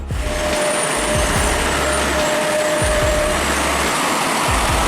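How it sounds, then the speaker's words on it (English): A heavily loaded truck grinds up a steep, rocky slope, its engine roaring loudly and steadily for the whole stretch, with deep pulsing low rumble beneath and no voices. "Every step on the accelerator is a painful roar of the engine, trying to push the heavily loaded body of the vehicle to overcome gravity."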